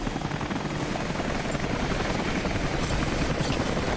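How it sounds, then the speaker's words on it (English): Helicopter in the video game Rise of the Tomb Raider, a steady loud rotor chop and engine roar filling the whole clip without pause. "Helicopter"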